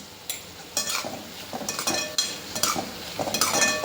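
A ladle stirs ridge gourd curry in a pan, giving repeated scraping, clinking strokes over a soft low sizzle, close and rhythmic with no voices.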